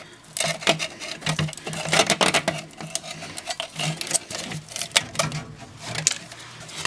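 Dull pair of snips cutting through flexible foil dryer duct, a rapid series of crisp crunching snips and crinkles close up.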